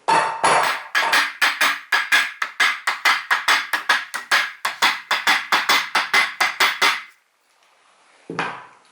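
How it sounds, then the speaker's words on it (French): A wooden mallet strikes solid wood tabletop boards to drive them together, about two dozen sharp, evenly spaced knocks in a fast steady rhythm, close and loud, ending in a brief pause and one final softer tap. "Après vous prenez le maillet, un maillet pas un marteau"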